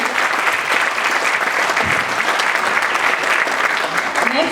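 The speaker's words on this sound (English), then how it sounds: "A big round of applause for her." Steady applause from an audience honouring an award winner at a youth awards event, a dense continuous clapping that holds evenly throughout with no pauses.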